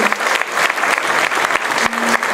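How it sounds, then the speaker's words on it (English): Audience applause for the saxophone section of a school jazz band made up of freshmen and sophomores, performing at a seaside jubilee event; steady dense clapping fills the whole stretch at close range. "Give them a round of applause."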